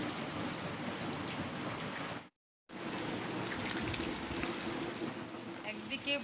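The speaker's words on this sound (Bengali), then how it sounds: "একদিকে বৃষ্টি, প্রচন্ড বৃষ্টির ঝাঁট আসছে" Heavy rain falls steadily outside a house during a stormy spell, a dense unbroken hiss broken by a brief silent gap, with scattered louder drips near the end.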